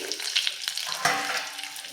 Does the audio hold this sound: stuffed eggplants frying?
yes